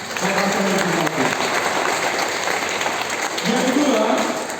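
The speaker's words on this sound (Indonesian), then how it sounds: "Kita sambut dengan tepuk tangan Bapak Sony Betaubun." Audience at a school event for International Day of Persons with Disabilities applauding to welcome an official, steady clapping throughout with a voice speaking over it at the start and again near the end.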